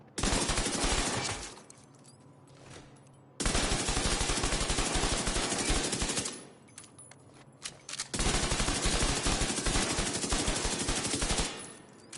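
Automatic gunfire from The Division 2 video game, loud sustained bursts in three long stretches separated by brief quieter gaps, with no talking.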